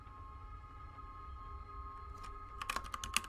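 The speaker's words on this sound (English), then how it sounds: "There, I'm typing you a welcome message." Keystrokes on a computer keyboard, quiet at first and then a quick burst of crisp, close taps over a steady background hum.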